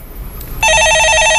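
A telephone rings loud and steady in a Korean stock-market call-in broadcast, a bright electronic trill starting abruptly partway through and continuing without a break over faint room noise.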